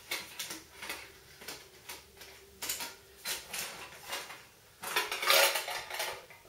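Metal pans and bowls of a small camping mess kit clank and rattle as they are handled, in a series of close, sharp clinks with a louder burst of clattering near the end.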